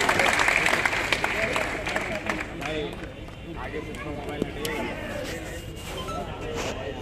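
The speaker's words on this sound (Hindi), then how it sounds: "जोरदार तालियों के साथ आपके सामने" A large crowd at a political rally in Siwan applauds and cheers for Congress leader Kanhaiya Kumar, a dense, sustained roar of clapping with a voice talking over it.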